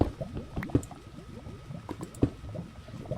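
Lava pouring down in the Minecraft game with the Pokecube mod, a bubbling, gurgling liquid flow broken by scattered pops and a few sharper plops, moderately loud and with no voices.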